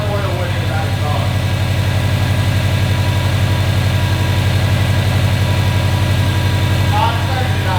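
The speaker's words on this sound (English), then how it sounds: "The up pipe heat shield is broken, so it's being a little bit rattly" A 2015 Subaru WRX STI engine idles with a steady low rumble and a buzzing metallic rattle from a broken up-pipe heat shield, loud and close, with faint voices in the background.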